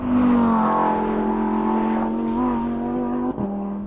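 A Lamborghini Huracan Performante runs flat out on a straight near 193 mph, its engine a loud, sustained high-pitched roar holding steady with a brief dip and recovery near the end, no voices over it.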